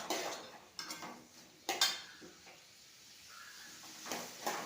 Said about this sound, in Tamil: தக்காளி ஒரு 3 தக்காளி போட்டு அதையும் சேர்த்து வதக்கி எடுத்துக்கலாம்.